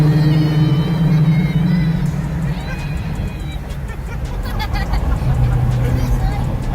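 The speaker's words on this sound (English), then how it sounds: "this car is loud. It's very loud. First official test drive." A loud rebuilt Dodge Hellcat on its first test drive gives a deep, steady engine rumble and road roar from inside the car. Voices talk over the noise throughout.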